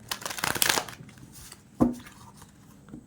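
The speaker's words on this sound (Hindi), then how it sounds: "बट फिलहाल मुझे ये थोड़ा सा शफल करना है" A tarot card deck being shuffled by hand, a short close burst of riffling card flutter followed by a single soft thump and a faint tap.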